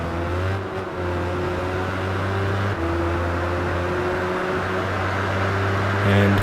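A racing motorcycle engine in Tourist Trophy, during a Euro Star Series race, holds a steady, sustained whine at high revs, with pitch shifts between gears and a constant loud drone throughout.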